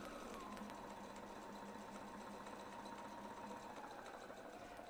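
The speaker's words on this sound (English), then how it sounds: "Holding the tails, we're going to sew from A around to B." A domestic sewing machine stitches along a template, a continuous fast whirring hum with steady needle chatter, close and even throughout at low volume.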